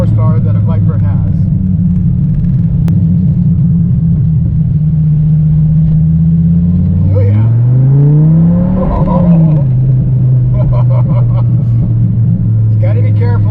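A Dodge Viper fitted with a Belanger exhaust idles with a deep, loud rumble, then revs up and settles back down, the burble carrying a few crackles on the overrun.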